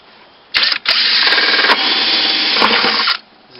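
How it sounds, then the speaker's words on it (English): A handheld power drill bores holes in a homemade mouse trap, loud and close, with a short first burst, then a sustained run of about two seconds. "I just drill a couple of holes here."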